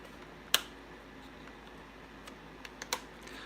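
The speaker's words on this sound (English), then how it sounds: "What's that clicking sound in the background?" A Rolling Bowling toy being reset gives a few sharp, dry clicks: one distinct snap early, then a quick cluster of lighter ticks near the end, faint and in the background over a quiet room hiss.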